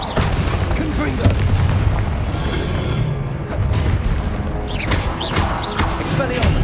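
Confringo spell blasts in Hogwarts Legacy produce booming, fiery impacts in a dense, loud stretch of magical combat, with repeated thuds and crackling bursts running throughout.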